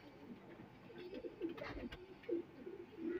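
A pair of fancy pigeons, Frozpuri, Rampuri, Ali wala, Golden and Teddy types, coo softly nearby in repeated low throaty phrases, with faint rustling and background noise between the calls.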